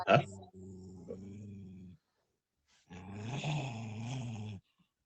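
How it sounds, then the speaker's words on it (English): A dog growls in two low, rumbling bursts, a short one followed by a longer, steadier one after a pause, close and fairly quiet with no talk over it. "Are you growling at me or at your mama?"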